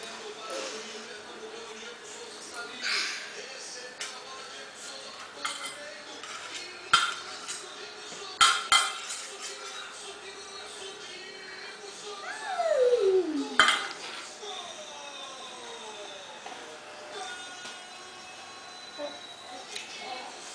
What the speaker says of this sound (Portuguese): Como que eu tô mexendo a vasilha no quarto